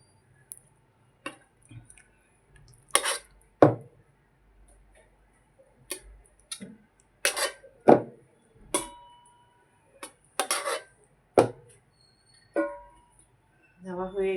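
Chicken legs set one by one into a dish while cooking: a dozen or so separate soft, wet thuds and squishy taps at an irregular pace, close up, with quiet gaps between them.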